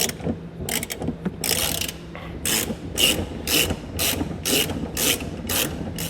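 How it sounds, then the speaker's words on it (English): A ratchet with a 21mm socket loosening the spare tire bolt on a 2020 Nissan Pathfinder clicks in a quick series of close, crisp pawl bursts, about ten strokes in steady rhythm. "We'll go ahead and start loosening that bolt so we can get the spare tire out of there for now."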